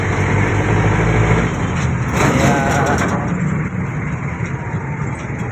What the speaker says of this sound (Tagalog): nagsakay na tayo ng jeep